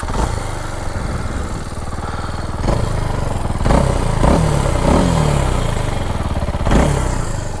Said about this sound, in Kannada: ಸೊ ಎಕ್ಸಾಸ್ಟ್ ನೋಟ್ ನೋಡೋಣ ಹೇಗಿದೆ ಅಂತ